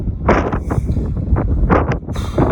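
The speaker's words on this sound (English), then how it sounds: "wind is picking up" Wind gusts outdoors buffet the microphone in a loud, continuous, uneven rumble that swells and dips for a couple of seconds.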